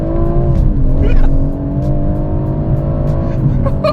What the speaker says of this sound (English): A little bit of wheel spin here.